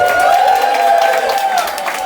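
Crowd noise from a roast battle audience, with applause and cheering voices blending into a dense, loud wash that eases slightly near the end.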